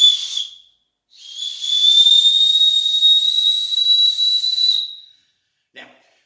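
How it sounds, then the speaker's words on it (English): A survival whistle from a Go Time Gear kit blown hard, giving a short shrill burst and then a long piercing sustained tone lasting several seconds. A brief faint click follows, and no one talks. "here is the whistle that does attach to the outside bag"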